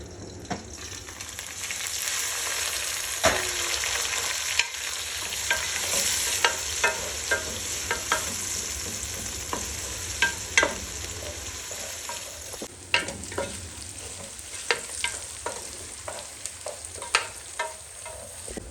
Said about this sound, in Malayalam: അത് എണ്ണ നല്ലോണം ചൂടായി വരുന്ന സമയത്ത് കനം കുറച്ച് നീളത്തിൽ അരിഞ്ഞിട്ടുള്ള സവാള ചേർത്ത് കൊടുക്കുക.